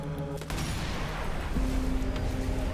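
A sniper rifle shot in Sniper Elite V2 Remastered booms sharply near the start and rumbles away into a sustained low echo, with a steady tone droning underneath.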